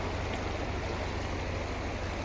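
A snowmelt mountain stream in Pahalgam, Kashmir, rushing steadily and close with a continuous even wash of flowing water.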